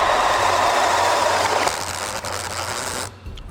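A DeWalt drill powered by a PowerStack battery boring holes, its motor whirring steadily and loudly, then dropping in pitch as the load builds and the clutch engages, before cutting off abruptly.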